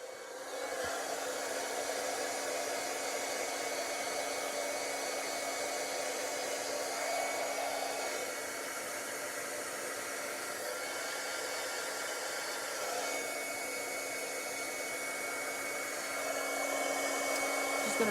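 A heat embossing tool blows hot air onto a stamped card, a steady close whirring hiss like a small hair dryer that runs without pause, with slight shifts in tone as it moves.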